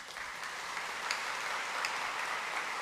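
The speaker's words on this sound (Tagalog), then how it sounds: "pumalakpak ng malakas" A church congregation claps loudly during a Simbang Gabi homily, producing a steady wash of dense applause that holds evenly for a few seconds with no talk over it.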